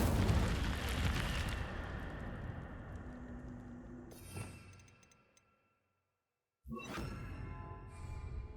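Incendio fire spell cast in the Hogwarts Legacy video game: a loud whooshing burst, then a second blast after a brief silence, with a short bright crackle at the end.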